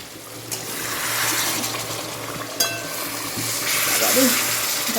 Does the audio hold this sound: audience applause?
no